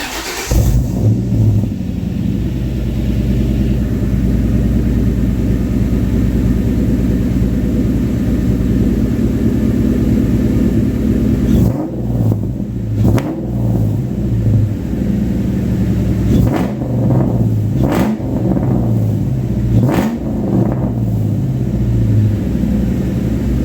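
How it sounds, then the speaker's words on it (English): A 2003 Ford Mustang GT convertible with the 2V V8 idles and runs close by, a steady low rumble throughout with brief blips of revving partway through, no voices. "So let me start the car for you."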